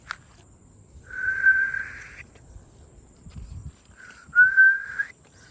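Two sustained, fairly close whistled notes, the second broken into short bursts, with quiet background noise and faint shuffling in between.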